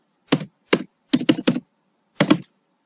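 Computer keyboard typing during data entry, a few isolated key presses followed by a quick burst of three and one last double tap, crisp and close in a quiet room.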